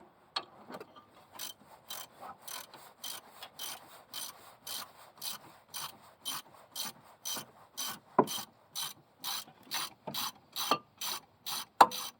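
A ratchet wrench works a front strut bolt on a 1993–1997 Ford Probe or Mazda MX6, giving a long, steady run of crisp, evenly spaced clicks close by, with a few louder knocks mixed in.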